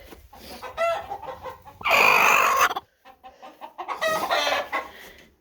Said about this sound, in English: now the roosters are all excited about it